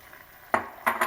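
Zucchini being stirred into a full pot of vegetables for minestrone soup, with two short scraping bursts of a spoon against the pot after a quiet start.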